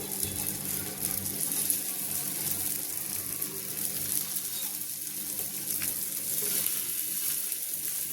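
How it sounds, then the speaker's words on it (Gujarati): Farali patties set on an oiled tawa, with a steady, continuous sizzle of shallow-frying in a little oil at close range, even and unbroken throughout, with no talking. "હવે આપણે આ પેટીસને શેકી લેવાની છે તો આપણે તવા ઉપર તેલ લગાવી દઈશું અને હવે પેટીસને મૂકી દઈશું"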